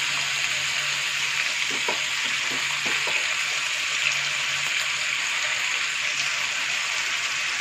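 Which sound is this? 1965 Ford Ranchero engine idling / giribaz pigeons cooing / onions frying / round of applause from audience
onions frying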